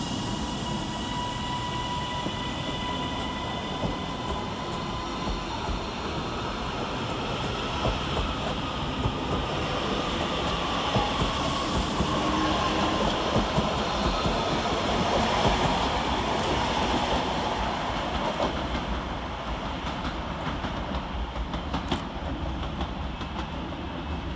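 Northern Class 331 electric trains at Manchester Oxford Road station, a steady, fairly close rumble and rolling drone that holds for the whole stretch with a slight swell midway and no voices.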